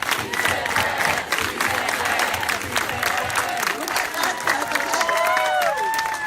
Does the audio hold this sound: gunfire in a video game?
no